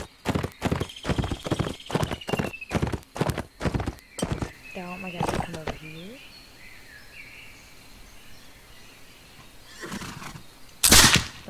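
Horse hooves clip-clop in a steady, loud rhythm, followed by a whinny and a brief sharp thump, in a Caribbean-set video game with bandits; faint bird calls sit in the background.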